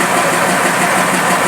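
The engine of a Fiat 190 truck runs in a loud, steady, dense roar, close by and with nothing else heard over it.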